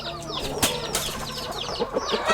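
Aseel chickens, including a young rooster, clucking close by in a yard, with bursts of short chirpy calls and a bit of wing flapping over a steady outdoor background.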